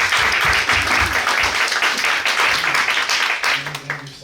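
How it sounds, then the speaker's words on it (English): A presentation audience gives a round of applause, loud and dense many-handed clapping filling the room, tapering slightly toward the end as a low tone and some voices emerge. "Let's give a round of applause for Andrew."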